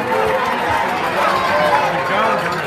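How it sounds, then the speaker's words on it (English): A large pageant audience gives a loud round of applause for the contestants at a Miss Universe preliminary competition, with dense continuous clapping mixed with crowd chatter. "let's just give every contestant a loud round of applause"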